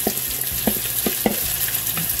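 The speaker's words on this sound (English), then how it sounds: "We'll stir this in and let it fry out." Hominy frying in bacon fat as it is stirred, a steady close sizzle with a few sharp scraping clicks from the stirring utensil.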